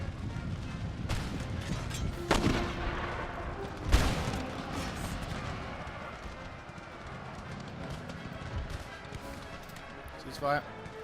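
Cannon artillery fire in an Empire Total War battle, several sharp booming shots over a busy clatter of battlefield noise, with someone talking throughout.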